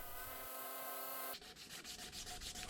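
A belt sander with a coarse 36 grit aluminum oxide belt grinds down an epoxied bloodwood kukri handle, a steady motor whine giving way to loud, rough abrasive rasping that continues without pause.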